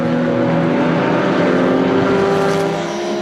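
Supercar Challenge race cars at Assen, including a BMW silhouette car, roaring past as a loud, sustained engine drone with layered tones that swell and hold throughout.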